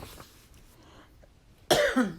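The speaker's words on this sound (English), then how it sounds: "Excuse me for the coughing." After a stretch of near silence, a single sharp, close cough breaks out.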